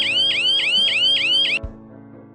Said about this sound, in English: Door open detector.